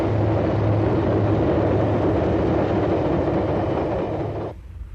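A train rumbles along a single-track coastal railway on the Gulf of Taranto in southern Italy, close by, a loud steady roar with a low droning hum, cutting off abruptly near the end.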